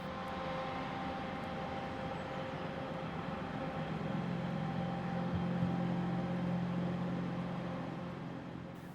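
Electric locomotive 120128 on the rear of an early morning intercity train from Zwickau to Leipzig, a steady rumbling drone with a faint tonal hum that swells slightly midway, fairly distant and continuous without voices.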